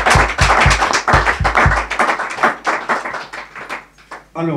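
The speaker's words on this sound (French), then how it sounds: "je vous prierai un tout petit peu de les applaudir encore plus pour les encourager" Audience applause at a conference-debate in Paris, loud and close. Quick, even claps start strong, then thin into scattered, uneven claps and die away, and a voice sounds briefly at the very end.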